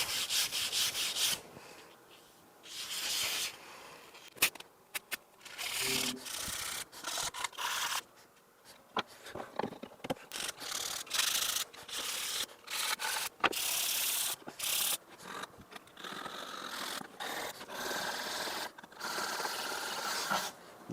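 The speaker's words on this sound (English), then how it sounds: "if we sand in a circular motion around the original, we should be able to get that indent out" Antique wooden furniture is sanded in circular motions, giving bursts of harsh, scratchy rubbing close by, broken by brief pauses.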